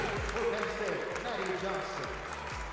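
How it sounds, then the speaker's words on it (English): A crowd at a gymnastics meet in an arena roars and applauds in a continuous reverberant wash of cheering, with voices talking over the noise throughout. "The crowd's on their feet. They practically jumped through the roof cheering for her."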